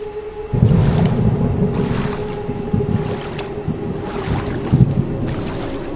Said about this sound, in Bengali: উত্তাল ঢেউয়ে নৌকাটা চলতে লাগলো।